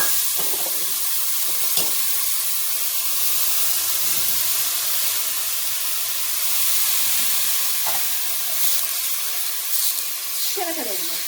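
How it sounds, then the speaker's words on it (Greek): Minced meat and onions fry in a pot with a loud, constant sizzling hiss, near and steady, with a few faint clinks and a brief voice in the background. "Ανοίγουμε το καπάκι και βάζουμε μέσα το κιμά. Μαζί με το κιμά βάζουμε και τα κρεμμύδια μας."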